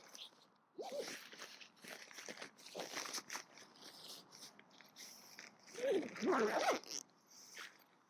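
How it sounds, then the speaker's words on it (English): An awning bag being zipped up: raspy zipping strokes with rustling fabric, one burst early and a louder, longer pull toward the end. "we can just zip it up inside."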